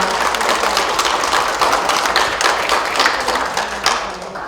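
Audience applause at a book-launch talk concert in a hall, a dense sustained wash of many hands clapping that carries on steadily and tapers slightly near the end.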